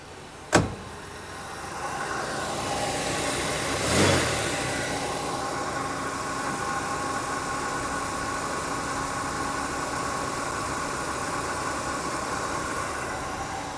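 A 1965 Pontiac Bonneville with a 389 four-barrel V8, running on five-year-old gas and not tuned up, idles steadily nearby. A sharp click comes early and a brief swell follows around four seconds, with no talking.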